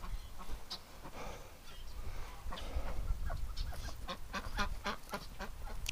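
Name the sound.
hurt duck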